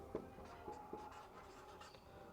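Faint, sparse strokes of writing on a board during a classroom grammar lesson, a few short scratchy taps and scrapes spread over a quiet room tone.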